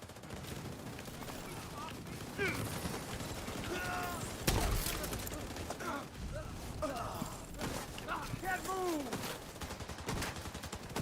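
Video game firefight with bursts of machine-gun fire and scattered shots, irregular and fairly loud, mixed with game voices and other battle noise.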